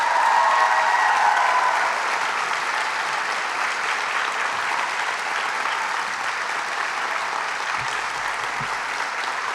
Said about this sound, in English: would you give her a huge round of applause